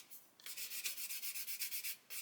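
Rhythmic back-and-forth rasping of sandpaper over Mr. Surfacer filler on a plastic model car body, about a dozen short, even strokes close up and quiet, with no talking.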